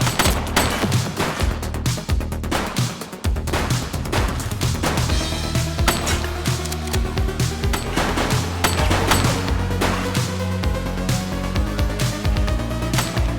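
Rapid gunfire from a police action video game on Xbox Series X, with dense bursts of automatic shots and sharp single cracks firing continuously and loudly over a low rumbling background.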